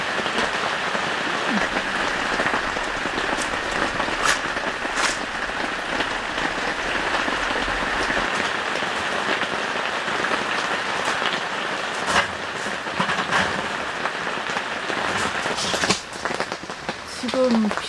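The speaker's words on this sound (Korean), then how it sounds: "지금 비가 너무 많이 와서" Heavy downpour at a rainy-season campsite on Gyeryongsan, a steady dense hiss of rain drumming on surfaces throughout, close and continuous, with a few sharper drips and thumps near the end.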